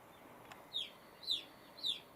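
Young chicks in a brooder warmed by a light and lined with blanket-like insulation give three short, high peeps at a steady pace. The peeps are faint but clear over a quiet background.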